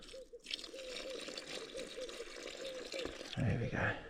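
Water poured into a homemade wheat fishing bait mix outdoors, a soft splashing trickle under low background noise, growing into a louder gurgling pour near the end.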